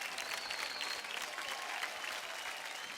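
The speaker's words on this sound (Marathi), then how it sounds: "जोरदार टाळ्या होऊन जाऊ दे" An audience at a televised dance competition claps in steady, dense applause that fills the whole stretch without a break.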